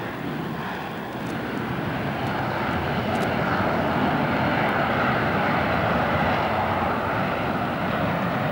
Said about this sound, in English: It's the world debut of Russia's new vertical takeoff fighter, the Yak 141.